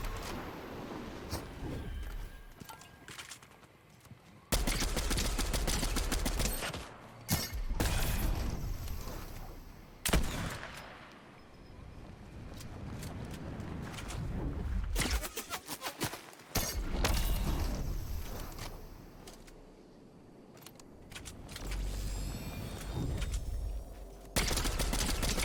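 Gunfire in the Fortnite video game, with bursts of loud shots coming in several clusters separated by quieter gaps over about twenty-five seconds.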